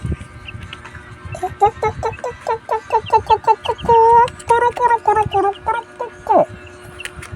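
A hen clucks in a rapid, rhythmic series of short calls among chicks, close and loud, with other soft poultry sounds and rustling around it.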